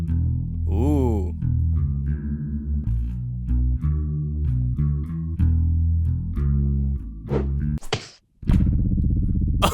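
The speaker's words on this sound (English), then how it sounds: "maybe we will throw some reverb and chorus on the bass to give it sort of that underwater kind of vibe" Bass line drenched in reverb and chorus for a murky, underwater feel, playing a rhythmic pattern of repeated notes, with a brief break and a swelling washed-out tail near the end.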